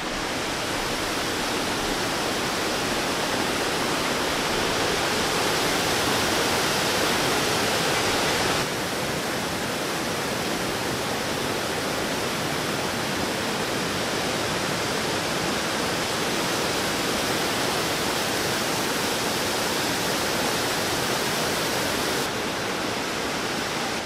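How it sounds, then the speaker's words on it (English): A waterfall on a wild river loop in Temagami roars up close, a loud, dense, unbroken wash of falling water that stays steady throughout, with no voices. "That's probably one of the craziest waterfalls I've ever been"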